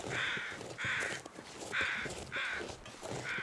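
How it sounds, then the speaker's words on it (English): Crows in the snowy wilderness of The Long Dark video game caw loudly and repeatedly, five harsh bursts in a steady rhythm close by, with faint crunching footsteps between them. "Silly crows being really loud."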